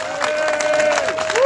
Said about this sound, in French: applaudissez pour la CGT